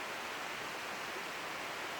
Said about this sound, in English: So that waterfall is Glenbrook.